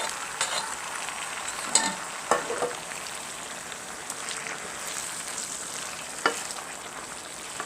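A blended mixture for a beef, okra and aubergine stew hits a hot pan, sizzling steadily up close, with sharp utensil clicks and stirring scrapes scattered through.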